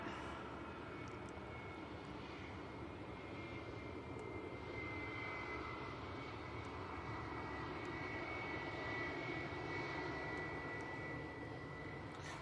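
An EasyJet Airbus A321 on approach to land at Manchester Airport, its engines giving a steady, fairly distant broadband roar that holds evenly for about twelve seconds with no talk over it.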